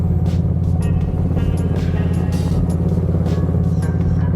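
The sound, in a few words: riding a 2018 Harley Street Glide Special with 124" big bore kit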